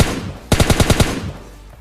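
Gunfire in the mobile game PUBG Mobile Lite: a rapid burst of about seven loud, evenly spaced automatic shots lasting half a second, followed by fading echo.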